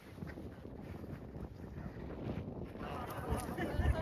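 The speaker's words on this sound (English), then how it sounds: "It'll be a bit windy up here." Wind buffets the microphone on a grassy hilltop walk near Bolsterstone, a steady, fairly loud rushing roar that swells slightly toward the end, with no other clear sounds.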